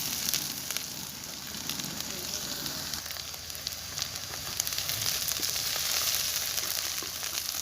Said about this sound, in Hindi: प्याज को हमने अच्छी तरह गोल्डन ब्राउन कर लेना है।